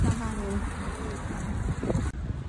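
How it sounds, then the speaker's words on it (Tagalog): Steady wind from a storm buffets the microphone with a low rumble and hiss, while a person talks over it. "lakas na hangin"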